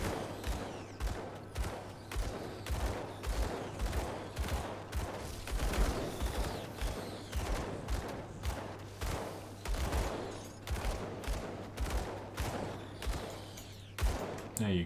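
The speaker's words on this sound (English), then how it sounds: "you could shoot these spiders." Ranged weapon in Grim Dawn fires a long, steady stream of rhythmic shots at spiders, each pop evenly spaced over a low constant hum, moderately quiet throughout.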